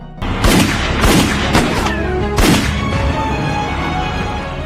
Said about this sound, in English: they finally started shooting at each other